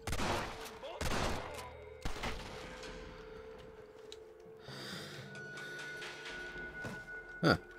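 Gunfire in the video game Red Dead Redemption comes as several sharp shots early on, followed by a quieter stretch with game ambience and one more loud crack near the end.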